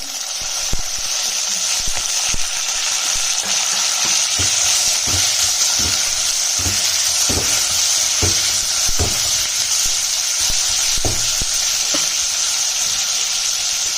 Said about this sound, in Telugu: నెక్స్ట్ ఇందులోకి ఒక్కొక్కటి మనం వెజిటేబుల్స్ కూడా వేసుకోవాలి First onion, drumstick, tomato.